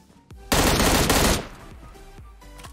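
M16 rifle fire in a video game: a loud, sustained automatic burst of nearly a second, with single shots and their ringing decay before and after, close and dominant.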